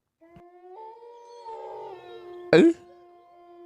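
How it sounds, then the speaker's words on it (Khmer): A cartoon dog howls in one long rising, wavering tone, close and fairly loud, ending in a sharp burst of noise. "ឺសំលេងឆ្កែលូ"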